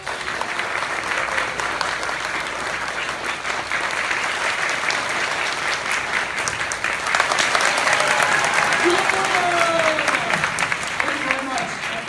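Steady audience applause at a conference session rewarding contestants, sustained and fairly loud throughout, with faint whistles or squeaks partway through.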